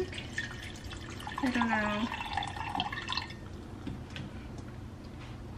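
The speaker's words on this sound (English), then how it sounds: "So now I'm just gonna add some filtered water and just enough to cover it" Filtered water pours into a cooking pot of rosemary sprigs on the stove, a brief gurgling splash lasting about two seconds under quiet talk, then a few faint drips.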